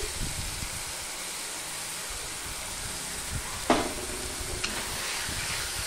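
Spinach with sesame seeds and melted sugar fries in a pan, a low steady sizzle and hiss with a couple of sharp scraping stirs, close and alone.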